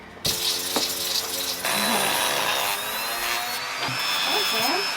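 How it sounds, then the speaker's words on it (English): Dremel rotary tool cutting a large brush down to a smaller piece during DIY boat repairs; a high, steady whine runs with a few brief pauses and pitch shifts as the tool bites, close and loud. "that's where your Dremel tool comes in handy"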